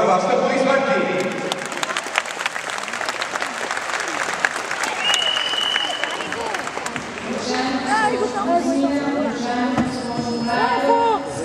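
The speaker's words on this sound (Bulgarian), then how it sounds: "Моля за вашите аплодисменти." A large arena crowd applauds steadily at the opening ceremony of the 2014 Rhythmic Gymnastics World Cup in Sofia, with dense, sustained clapping and cheering throughout and voices audible within the crowd.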